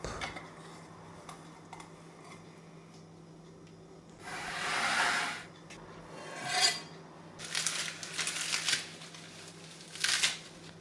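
A cooled quiche is cut into slices, with several close, scratchy bursts of knife scraping through crust separated by short quiet pauses.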